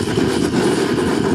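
A cheap multi-fuel stove burning gas roars loudly and steadily, with a rough, fluttering low rumble as its flame flares.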